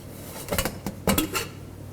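A pressure cooker lid is lifted off after the pressure has been released while cooking a drumstick-leaf dal curry, giving a few quick metallic clanks and clinks close by, with no talking.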